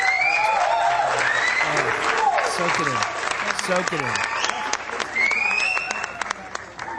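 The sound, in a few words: studio audience applauding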